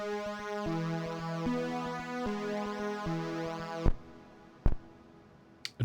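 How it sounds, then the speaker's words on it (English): Synthesized drum hits made with Rob Papen's B.I.T. synth, not drum samples, thump in a steady pattern beneath bright electronic tones, then a few isolated sharp synthetic hits ring out alone. "A drum kind of sound created with the synthesizer without having access to samples of drums."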